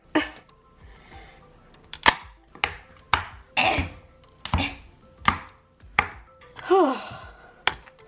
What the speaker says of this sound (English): Really hard to cut frozen butter.